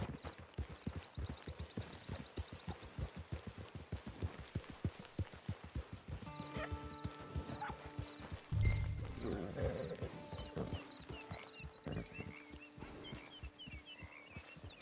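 Horse hooves clip-clop in a steady rhythmic gait in the video game Red Dead Redemption 2, fairly near, later joined by game sounds and a brief snort or whinny.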